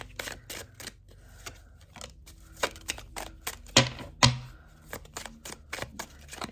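A deck of tarot cards being shuffled, giving a run of quick papery riffles and snaps with several louder bursts near the middle, close up and with no talk.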